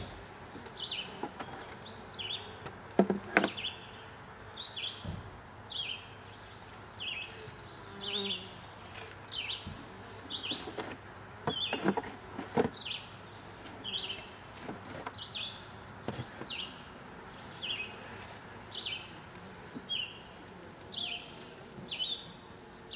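Honey bees buzz around a small nuc hive at an apiary, a run of repeated near buzzes coming and going over faint outdoor background with occasional chirps.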